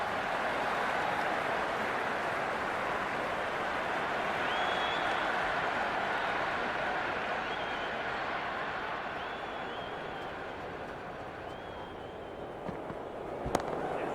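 A cricket stadium crowd roars and applauds in a broad, sustained wash after a boundary four in a Pakistan versus New Zealand T20 World Cup match, with no voices standing out.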